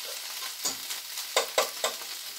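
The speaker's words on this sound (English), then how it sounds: "spread them out just to get a little sizzle" Steady broadband sizzle of onions and mushrooms frying in a pan, with a few brief louder bursts as the pieces are stirred or shifted, no voices.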